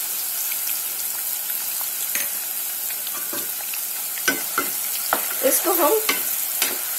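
Onion paste and ginger garlic paste fry in hot oil with a steady bright hiss, broken by clicking and scraping stirs that grow busier toward the end, with a few words spoken briefly.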